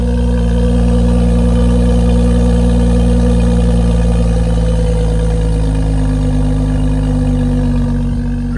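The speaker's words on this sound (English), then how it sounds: "Thing does sound great. Performance exhaust," A BMW X3 F25 with a performance exhaust and tuned ECU idles steadily after starting, a deep, throaty low rumble holding an even drone throughout with no talking.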